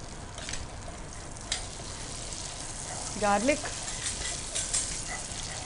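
Garlic frying in melted butter in a pan, a soft, continuous sizzle with a few light clinks and a brief voice-like murmur partway through.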